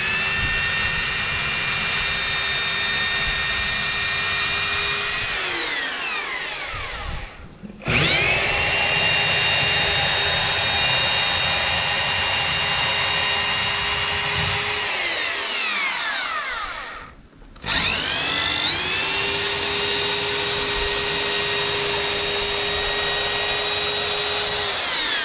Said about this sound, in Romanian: Voi da găuri fără percuție ca să nu spargă în partea altă.